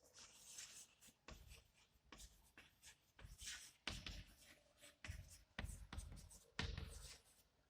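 Marker or chalk strokes on a board while a lecturer draws out a characteristics table, scratchy irregular bursts separated by short pauses, close and moderately faint.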